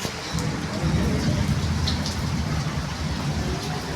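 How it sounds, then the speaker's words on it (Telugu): Heavy rain pours steadily onto surfaces nearby, a dense continuous hiss with low rumbling underneath suggesting distant thunder, faint voices mixed in. "వర్షం అయితే పడుతుంది."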